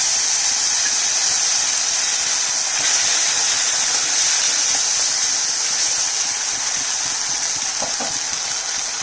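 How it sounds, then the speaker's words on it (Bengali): Mustard and poppy seed paste dropped into hot oil, giving a loud, steady sizzling hiss that runs unbroken and close for the whole stretch. "তেলটা গরম হয়ে গেছে, আমি সর্ষা আর পোস্ত বাটাটা দিয়ে দিলাম।"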